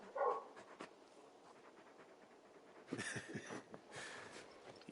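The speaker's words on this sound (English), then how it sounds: "You're just a big puppy, aren't you? A very big puppy." Torgal the dog from Final Fantasy 16 gives soft whimpers and short whines, faint and close, in a quiet game scene.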